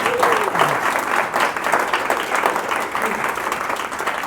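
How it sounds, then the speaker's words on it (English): Audience applause after a talk on dealing with difficult people, a steady, even wash of clapping that holds at full strength for the whole stretch with no voices over it. "Let's give a round of applause for Dr."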